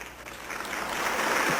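An audience at a True Mother event applauds, the clapping swelling from moderate to louder over a brief stretch with no speech.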